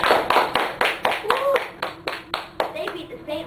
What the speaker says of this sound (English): Everyone give a round of applause to the Yankees.